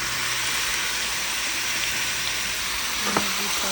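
Chicken pieces sautéing with ginger in a pan for tinola, a steady broadband sizzle and frying hiss throughout, fairly loud and close, with a brief clink of a utensil near the end and no talk.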